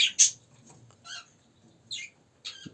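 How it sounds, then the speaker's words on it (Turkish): Short bursts of high, bright chirping and twittering from goldfinches, a few scattered calls with quiet gaps between them, fairly close. "İçeriden de sakaların sesi geliyor."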